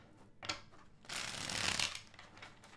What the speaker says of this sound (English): 2 more shuffles for Taurus and their person, please.